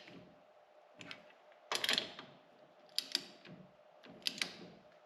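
A ratchet snugs up lug nuts on wheel spacers of a 2020 Polaris Ranger XP1000 Northstar Ultimate, quick clicking bursts in three or four short sets, close and fairly quiet, with no talk.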